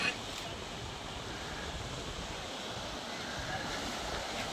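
Strong ocean surf pounds the shore near Kaybiang Tunnel as a continuous loud roar with heavy wind rumble, with no individual breaks standing out.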